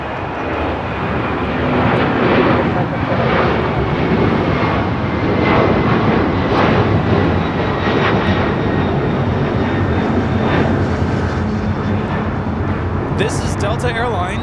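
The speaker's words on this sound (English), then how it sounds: "This is Delta Airlines 678 taking off to JFK on a 767-300ER." Delta Boeing 767-300ER jet taking off from LAX bound for JFK, a loud, sustained engine roar that swells and holds for the whole stretch, with faint talk in the background.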